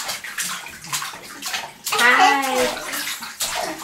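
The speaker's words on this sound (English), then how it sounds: "Julia's splashing, Henry's splashing. Everyone's splashing." Two small children splash in bath water during bath time, with sloshing and splashing bursts throughout and a voice and adult speech mixed in over the water.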